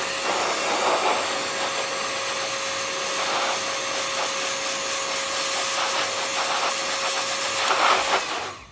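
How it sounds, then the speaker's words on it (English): A small hot air gun melts glue on a model panel, giving a steady, loud blowing whoosh with a faint constant whine that runs unbroken until it cuts off at the end. "I take my little air gun, give it a helping hand"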